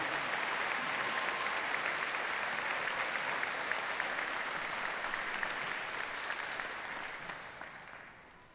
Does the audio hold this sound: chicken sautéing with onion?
no